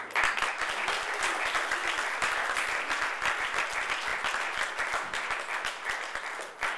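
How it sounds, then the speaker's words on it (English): Sustained, dense applause from a large audience at the Dasra Social Impact Leadership Program graduation ceremony, honoring the program's graduates; steady and full from start to finish with no voices over it. "So I'd love to be able to clap for each of you"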